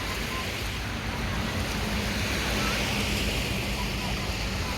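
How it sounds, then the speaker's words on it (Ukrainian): Sea surf rolls onto a wild beach in summer, a steady broadband wash of waves mixed with wind buffeting the microphone, continuous and fairly loud. "Море, там яхточки. Море."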